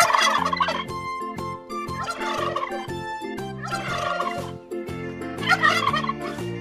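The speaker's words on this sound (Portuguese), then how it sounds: "Peru." A turkey gobbles repeatedly in bursts of rapid, warbling calls, loud and close, over a cheerful children's farm song with steady bass and melody.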